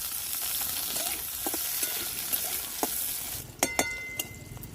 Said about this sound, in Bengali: এরপর আমি অল্প একটু কালো জিরে দিয়ে দিলাম, কাঁচা লঙ্কা, পেঁয়াজ দিয়ে দিলাম।